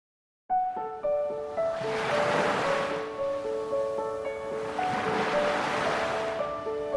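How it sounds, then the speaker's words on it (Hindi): Sea waves at Mandvi Beach in Kutch swell and break twice in slow surges, heard under a soft, sustained melodic music bed. "मैं तो बस समंदर को देखता हूँ।"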